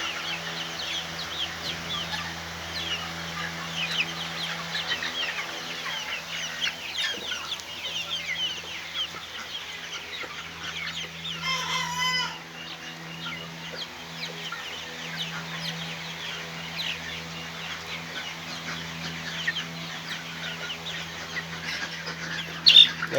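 Chickens on a poultry farm clucking and squawking continuously at close to middle distance, with scattered calls overlapping through a steady low hum of the poultry house.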